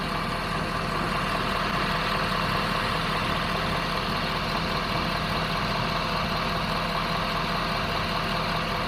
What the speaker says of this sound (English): Hopefully the engine itself is not drowning me out